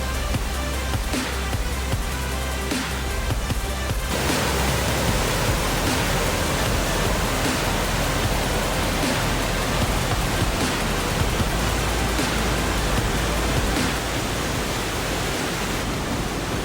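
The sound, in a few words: waterfall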